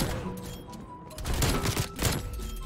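Dense gunfire from a first-person shooter video game, with sniper rifle shots among a continuous burst of booms and thuds that swells louder partway through, played without talk.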